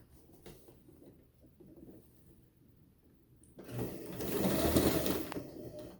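A sewing machine stitching bias tape onto a belt flag: soft handling noises at first, then the motor whirs up into a loud, steady close stitching run for the last couple of seconds.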